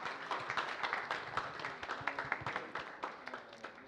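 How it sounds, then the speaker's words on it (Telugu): An audience at a film pre-release event applauds for debut actor Shashi, a burst of dense clapping from a crowd that thins and fades toward the end. "గట్టిగా ఒక్కసారి శశి గారి కోసం క్లాప్స్ అండి."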